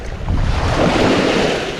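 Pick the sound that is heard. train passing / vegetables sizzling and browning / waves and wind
waves and wind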